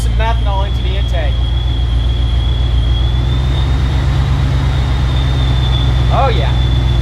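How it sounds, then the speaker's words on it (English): A twincharged Chevrolet Silverado pickup idles with methanol sprayed into the intake, giving a loud, steady, close engine drone that holds throughout, with brief faint voices. "So let's go ahead and shoot some methanol into the intake."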